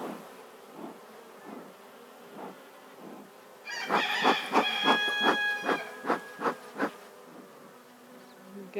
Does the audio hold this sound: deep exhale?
no